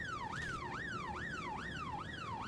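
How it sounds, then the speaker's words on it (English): A police siren wailing in the video game This Is The Police, with a rapid rising-and-falling cycle repeating about every half second, steady and continuous, with no talking. "You don't have to have the sirens on when you know, just working security"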